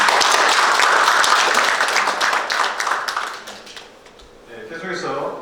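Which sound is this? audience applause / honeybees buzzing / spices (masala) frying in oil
audience applause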